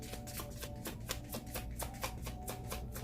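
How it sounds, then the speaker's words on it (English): Tarot cards are shuffled quietly in quick, regular riffling bursts, a soft papery flutter repeating with no talking. "I'm still shuffling."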